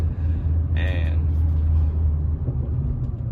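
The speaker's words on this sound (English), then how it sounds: "I'm sitting in traffic right now." Steady low rumble of road traffic heard from inside a car stopped in traffic, with a brief higher whine or brake hiss partway through.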